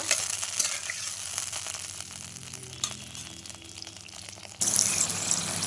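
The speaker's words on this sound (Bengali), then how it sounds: "এবার এটা যতক্ষণ না ফুটছে আমি অপেক্ষা করব" Sugar with a little water heating in a pan for a breakfast sweet, giving a steady bubbling hiss that swells louder near the end, with no talk.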